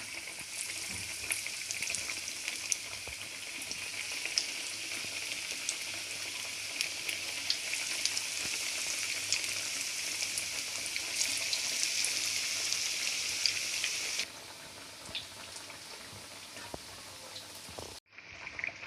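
Small pieces of snack dough fry in moderately hot oil, a steady close crackling sizzle that holds for about fourteen seconds, then eases off slightly before a brief pause near the end.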